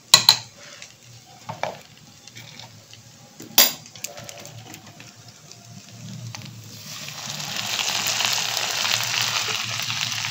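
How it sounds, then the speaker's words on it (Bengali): Pasta with cream gets stirred in a pan: a few sharp scrapes and clinks early on, then a rising, steady sizzle and bubbling that grows louder toward the end. "খুব ভালো করে নেড়ে নিই এটা"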